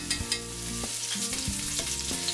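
Bacon frying in olive oil in a pot, a steady crackling sizzle with a few sharper pops and stirring scrapes, close and alone.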